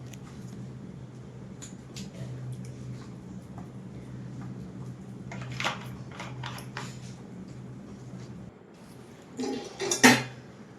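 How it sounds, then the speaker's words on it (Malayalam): A pan is set on a stove and coconut oil is added while preparing achappam batter for a Kerala snack: scattered metallic clinks and a louder clatter near the end over a steady low kitchen hum, with no talking. "മാവ് ഇനി ചട്ടി അടുപ്പത്ത് വെച്ച് എണ്ണ ഒഴിച്ചു കൊടുക്കാം വെളിച്ചെണ്ണയാണ് ഒഴിച്ചു കൊടുക്കുന്നത്"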